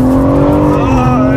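A car spins around on itself during a rally-style run, its tires squealing in a long sustained screech over loud engine noise, continuous and close throughout.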